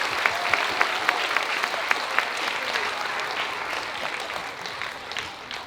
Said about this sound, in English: So can we please give our teachers a really big round of applause?